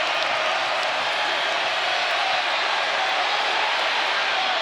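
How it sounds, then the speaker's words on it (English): A big football crowd at Carter-Finley Stadium, NC State hosting Virginia Tech, roars as a steady broad wall of noise throughout, with a commentator's voice blended in. "Now that crowd here at Carter-Finley Stadium gets going."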